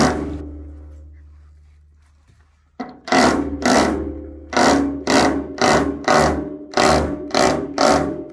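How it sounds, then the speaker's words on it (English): A power drill whirs in repeated short bursts, about eight pulses with brief pauses between, loud and close, after a quiet stretch with low hum. "always keep pressure on the drill"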